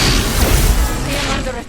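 A gunshot fires in the Marvel's Midnight Suns video game: a loud, deep boom with a rumbling burst that fades over a second or so, with a voice speaking around it.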